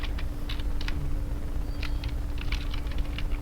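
Keys tapping on a computer keyboard in short irregular bursts, clicks spaced unevenly and fairly quiet over a steady low hum, as a command is typed into a terminal.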